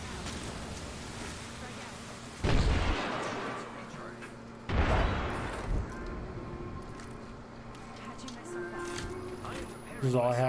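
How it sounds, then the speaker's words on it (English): Gunfire rings out in a video game: two sharp, loud bursts of shots land a couple of seconds apart, booming over a steady ambient bed while a player talks throughout. "Somebody's shooting at me."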